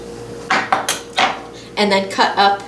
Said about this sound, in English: I'm going to take my spoon and scoop out the inside